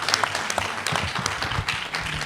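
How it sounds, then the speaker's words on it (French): An audience at a children's media awards ceremony applauds, a brisk burst of many hands clapping together with a few sharper claps standing out, while faint voices murmur underneath. "on peut l'applaudir au nom de toute l'équipe"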